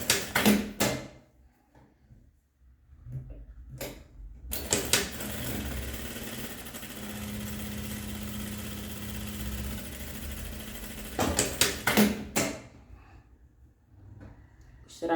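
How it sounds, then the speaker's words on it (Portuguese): A sewing machine runs steadily for about five seconds, stitching the slit seam of a skirt, with short bursts of handling and movement before and after the run. "eu vou passar agora a costurinha aqui só pra mostrar pra vocês como que ele vai ficar"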